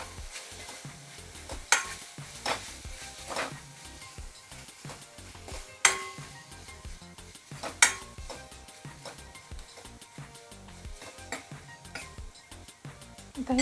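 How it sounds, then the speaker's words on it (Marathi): Tempering with chillies being sautéed in a pan for dhaba-style methi dal, a soft continuous sizzle under repeated stirring and occasional sharp clinks of a spoon hitting the pan rim. "आता ही परतून झाली आहे छान."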